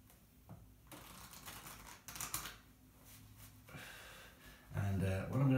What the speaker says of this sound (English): we'll start by giving the pack a shuffle.